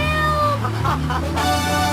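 A cat gives a single drawn-out meow in a Grand Theft Auto III radio advert for a Pogo the Monkey game, heard clearly over steady jingle music.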